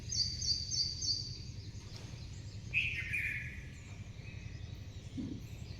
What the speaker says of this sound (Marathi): इतका छान पक्ष्यांचा आवाज येत होता.